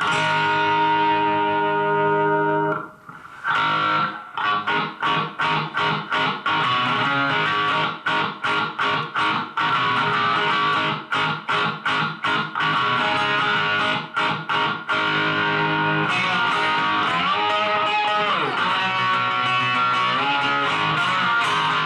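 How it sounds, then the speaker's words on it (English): Heavily distorted electric guitar plays a chugging, rhythmic riff of rapid palm-muted strums, loud and sustained with ringing chords toward the end. "But let me play with a little bit of distortion on here."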